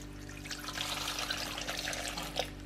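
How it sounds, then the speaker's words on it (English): Water being poured into a pot for pea and ham soup, a soft continuous splashing trickle with small bubbling bursts, quiet and close, without talk. "pour in our first water"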